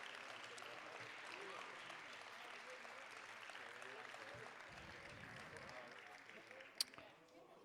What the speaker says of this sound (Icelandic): klappa fyrir öllum sem að skemmta okkur hérna í kvöld